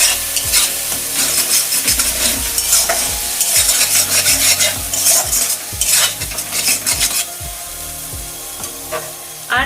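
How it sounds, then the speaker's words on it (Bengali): Spice paste stirred in a frying pan of oil for a katla fish curry, loud sizzling with repeated scraping strokes of a spoon against the pan in an uneven rhythm, no voices. "পেস্টটা দিয়েও ভালোভাবে নাড়াচাড়া করে নিচ্ছি"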